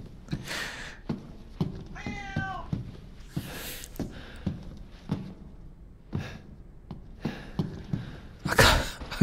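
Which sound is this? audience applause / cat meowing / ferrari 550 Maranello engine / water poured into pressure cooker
cat meowing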